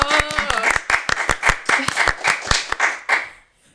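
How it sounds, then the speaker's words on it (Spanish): Audience applauding a guest, a small group clapping with sharp irregular hand claps that thin out and fade to silence near the end, with a brief voice at the start. "demos un fuerte aplauso a nuestra invitada Andrea Alvarado"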